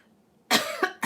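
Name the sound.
cough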